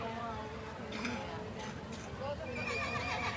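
Horses at a small-town street parade in 1984, whinnying and clip-clopping amid a noisy crowd, with people talking throughout and no single animal standing out.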